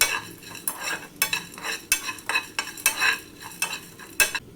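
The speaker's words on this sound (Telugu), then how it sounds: "ఒక స్పూన్ వరకు సోంపు వేస్తున్నా సేమ్ ఒక స్పూన్ వరకు జీలకర్ర కూడా వేసేద్దాం మిరియాలు కూడా ఒక స్పూన్ వేస్తున్నా ఇప్పుడు వీటిని అయితే దోరగా ఫ్రై చేసేద్దాం" Fennel, cumin and black pepper dry-frying in a pan, stirred in brisk repeated scrapes and rattles roughly every half second over a faint background sizzle.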